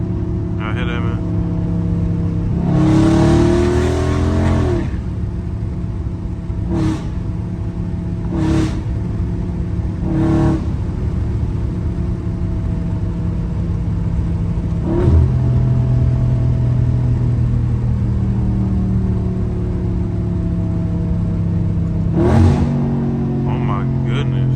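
Dodge Charger Scat Pack engine rumbling steadily from inside the cabin while pulling hard on a highway, with a few loud surging revs and shift bursts; someone talks excitedly over it at times.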